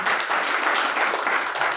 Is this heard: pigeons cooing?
no